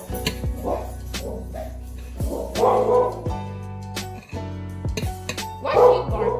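A dog barks indoors in a home kitchen, sharp barks repeating in bursts with some yips, up close and loud over music and household background.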